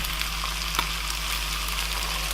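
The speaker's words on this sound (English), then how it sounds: "letting the heat of the gas just on a really low heat, just on a little bit of a flame there, just melt the cheese down" Cheese melts into a sauce in a pan over a low gas flame, giving a soft, steady sizzle and faint bubbling with a few small pops and a low steady hum underneath.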